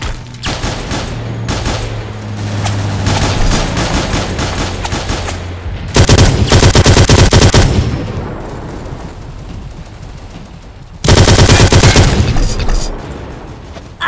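MG 34 machine gun firing in the World War Heroes game, loud sustained bursts of automatic fire with two especially dense volleys, a low engine-like hum running underneath.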